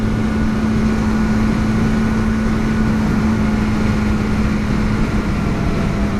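A 2018 Bajaj Dominar motorcycle engine hums steadily while riding, a constant close drone with a strong low tone and wind noise, no clear breaks for gear changes.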